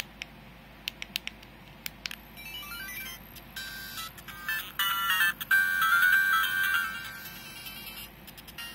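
Game Boy-style chiptune plays faintly from the small built-in speaker of a Pocket Sprite handheld, thin beeping melody notes and blips over a hissy background, growing a little busier toward the end.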